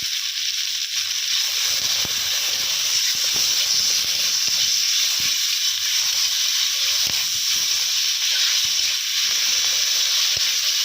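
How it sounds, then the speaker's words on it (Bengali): Freshly caught pond fish frying in oil with salt and turmeric powder, a loud, steady bright hiss and sizzle with faint clicks of a utensil, no voices. "আর 1/2 চামচ হলুদ গুঁড়ো দিয়ে ভালোভাবে ভেজে নিতে হবে"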